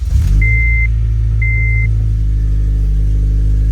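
An 8th-generation Honda Civic Si fitted with a Hybrid Racing cold air intake runs nearby, a deep steady idle rumble after a short starting surge, with two brief high chimes early on.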